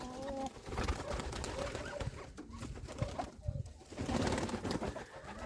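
Domestic pigeons coo softly nearby, including a black-headed pigeon, low repeated throaty calls over a background of shuffling and rustling.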